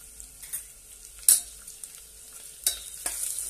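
Peanuts and ginger-garlic paste fry in oil for vangi bhat, an eggplant masala rice. A faint background sizzle is punctuated by a few sharp stirring clinks and scrapes against the pan.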